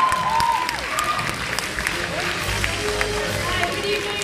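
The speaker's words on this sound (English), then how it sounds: "All of you, a big round of applause for all the women filmmakers." At the 5th QCinema Film Fest awards ceremony, an audience claps in a continuous wash of applause throughout, with voices and crowd murmur mixed underneath.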